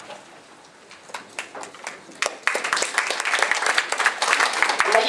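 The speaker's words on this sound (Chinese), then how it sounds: "我们用热烈的掌声欢迎他。" An audience breaks into applause to welcome a doctor speaking at a health seminar on anti-aging for seniors, scattered claps first and then swelling into steady, dense clapping across the room.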